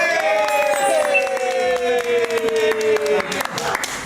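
Studio audience applauding and cheering during a comedy show, a dense burst of clapping with crowd noise mixed under sustained tonal sound, fading toward the end.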